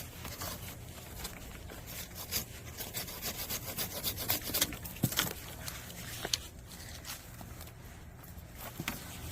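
Hand saw cutting through branches of a cherry tree during winter pruning, rhythmic rasping strokes, close and fairly steady, with some louder strokes midway and a light outdoor background.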